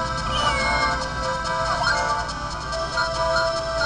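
Cat meowing in The Legend of Zelda: The Minish Cap, a short video game cry set against steady chiptune music and game sounds that carry throughout.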